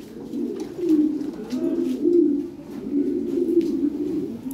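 Lahore pigeons, a newly paired male and female, coo in soft, repeated low rolling phrases close by, several throaty coos in a steady rhythm with faint background noise.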